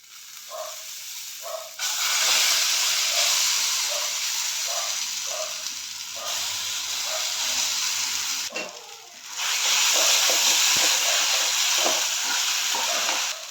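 Ground ginger for a coconut-roasted ginger curry dropped into a hot pan with no oil, raising a loud broad hiss that swells, dips briefly, then surges again, with a few soft knocks underneath.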